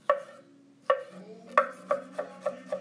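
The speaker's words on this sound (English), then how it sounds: "Let's chop the tomato now." A knife chops through a fresh tomato on a cutting board: seven crisp, close strikes, the first few spaced apart, then settling into a quicker, steady rhythm, with no talking.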